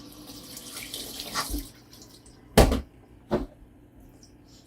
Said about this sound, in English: And then you just fill up each jar with cold water.